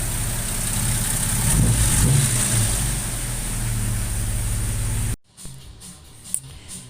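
Jaguar 420 engine runs nearby with a low, rumbling idle that swells briefly as if revved, then cuts off abruptly, leaving quiet with faint knocks and clatter.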